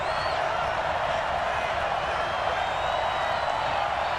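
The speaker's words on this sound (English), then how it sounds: "the crowd getting into it as we come up on a big third down" Football stadium crowd roaring before a big third down, a dense sustained cheer with scattered whistles and shouts, loud and steady throughout, with a commentator's voice mixed in.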